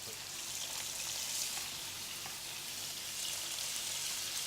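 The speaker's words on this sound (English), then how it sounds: "You can hear that nice sizzle." Dry beef pieces sizzling in hot oil in a pot for a bullocky stew, a steady, close, crackling hiss with tiny pops throughout, no voices.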